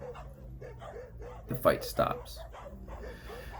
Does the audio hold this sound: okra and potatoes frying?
no